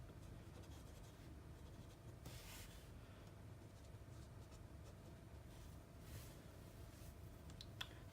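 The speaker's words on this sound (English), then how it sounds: "I'm just writing a really simple note, just decorating the tree at work." A Slick Writer pen scratches steadily across paper, making a soft continuous close-up scribble with a few faint ticks and short bursts of louder strokes, with no talking.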